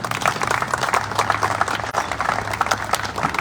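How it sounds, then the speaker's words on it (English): Audience applause for a speaker at a grave marker unveiling ceremony, a steady, dense patter of many hands clapping that holds evenly throughout. "how about a round of applause for Leslie"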